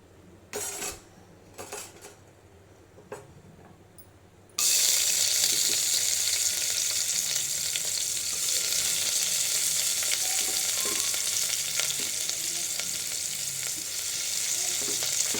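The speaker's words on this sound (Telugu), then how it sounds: "సో నేనైతే ఇప్పుడు ఉల్లిపాయ ముక్కలు వేసేస్తున్నాను ఫస్ట్." Chopped onion pieces are dropped into hot tempering oil for poha upma, setting off a loud, continuous sizzle after a few quieter knocks at the start.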